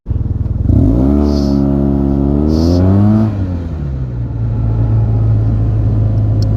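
Yamaha TMAX 560 scooter with a Termignoni exhaust pulls away hard, its loud engine note climbing steadily for a few seconds, then dropping back to a steady deeper drone as it cruises on, close and with no talk.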